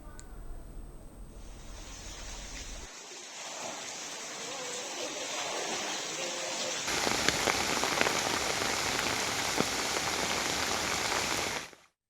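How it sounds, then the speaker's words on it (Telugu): Heavy monsoon rain pours over Rayalaseema in Andhra Pradesh, a dense, steady hiss of drops hitting surfaces that grows louder and fuller partway through and continues to the end. "రాయలసీమలో 2 రోజులుగా భారీ వర్షాలు కురుస్తున్నాయి"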